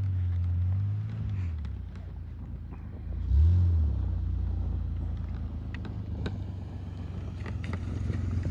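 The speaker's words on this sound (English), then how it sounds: "It's so noisy. All you can hear is grinding." A Subaru with a worn tire spins donuts, giving a continuous low rumbling drone with a brief surge in engine note partway through, heard from outside amid wind buffeting on the microphone.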